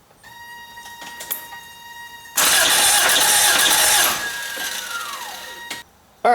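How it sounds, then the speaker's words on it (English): A 1987 Toyota MR2 engine cranks over on the starter in a loud, steady grinding whir lasting a couple of seconds, then drops to a lower sustained hum before cutting off, with faint clicks and tonal hum around it. "see if that rotor's turning when I'm cranking the engine"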